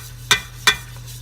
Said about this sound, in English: Just gonna slowly add the liquid,